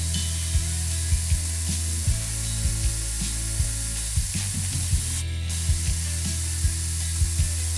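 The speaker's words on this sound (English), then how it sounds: "We'll use spray paints instead." Steady hiss of an aerosol can spraying, with a brief louder burst partway through and occasional soft clicks and knocks underneath.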